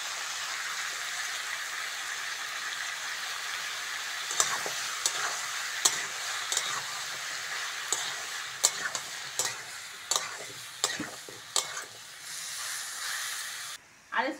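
Prawns and potatoes fry in a pan with a steady sizzle, while a spatula scrapes and knocks against the pan in repeated sharp clicks that grow more frequent.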